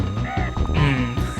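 Necky, the vulture boss in the Donkey Kong Country video game, lets out a harsh, raspy squawk in several quick caws, loud and close, with no other sound around it.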